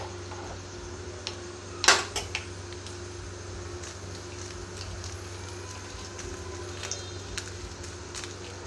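Black mustard seeds crackle in hot oil, giving faint, scattered pops and ticks with one sharper burst near the start. The sound sits over a quiet, steady background hum.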